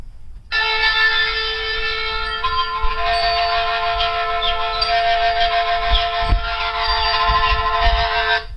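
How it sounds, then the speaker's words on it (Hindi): A conch shell (shankh) blown in one long, steady, bright drone that holds at an even level for about eight seconds without pause, a few soft thumps underneath and no talking. "इसके अलावा शंख"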